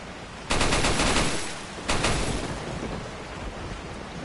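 A nighttime thunderstorm in Resident Evil 4 roars with steady heavy rain, broken by two loud crashing surges of thunder that swell suddenly and fade slowly.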